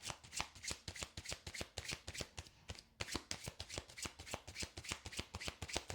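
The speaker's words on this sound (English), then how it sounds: "We're going to finish this shuffle and then see what we've got." A deck of tarot cards shuffled by hand, a steady run of crisp riffling flicks with a brief pause near the middle, close and clear with no talking.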